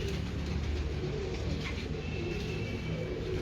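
Pigeons coo steadily and close by, their low, rolling calls overlapping throughout with no talking.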